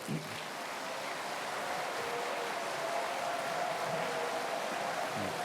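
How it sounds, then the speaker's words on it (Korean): Church audience at a winter camp gathering applauding to welcome a pastor, a steady, even wash of clapping held for several seconds, moderately distant and unbroken. "큰 박수로 환영해 주십시오"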